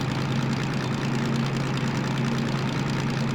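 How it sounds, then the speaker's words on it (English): A locomotive diesel engine in the Derail Valley simulator hums steadily and loudly, its low drone topped by a faint tonal gearbox whine that comes and goes, with no talking. "I can hear the gearbox starting to whine a bit."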